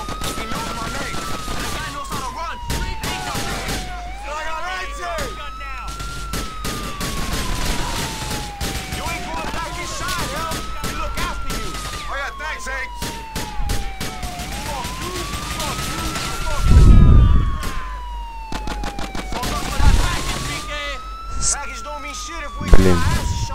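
Rapid gunfire crackles in Grand Theft Auto IV in bursts and scattered shots, mixed with a police siren that rises and falls repeatedly, with heavier blasts near the end.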